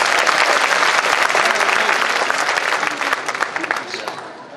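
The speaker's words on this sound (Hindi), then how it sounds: "जिनको समझ में आ गई वो ताली बजाए।" An audience at an award ceremony bursts into dense, close applause that holds steady for several seconds, then gradually thins and fades.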